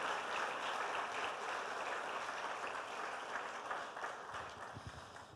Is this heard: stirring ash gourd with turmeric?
no